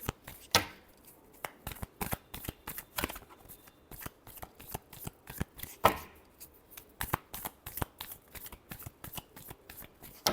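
A deck of tarot cards is shuffled by hand, giving a long run of quick, crisp riffling snaps close up, some louder bursts among steady rapid flutters, with no talking.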